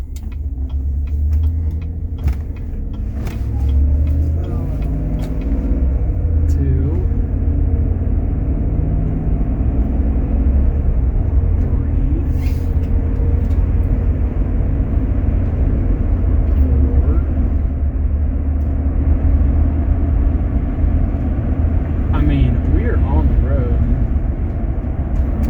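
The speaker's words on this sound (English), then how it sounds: "we're back from the test drive, and this thing drives good" A car with a rebuilt 6L80 automatic transmission drives on a road during a test drive: steady loud low road and engine rumble from inside the cabin, continuous throughout with small bumps.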